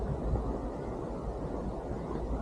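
Steady low wind rumble buffeting the microphone outdoors in Australia, a continuous blustery roar with no voices.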